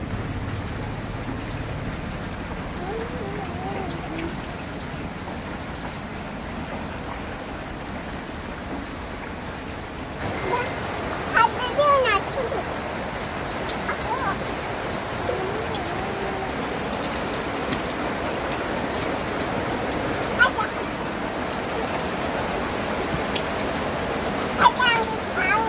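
Steady rain falls during a rainy season, a dense, even patter that keeps going throughout, with some scattered clatter and louder moments partway through.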